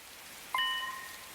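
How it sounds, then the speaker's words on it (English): Heavy rain pours in the video game Hundred Line Last Defense Academy, a soft, steady hiss that runs throughout, with a brief bright chime-like tone sounding just past halfway. "Oh, and it's raining, too. It's really coming down hard."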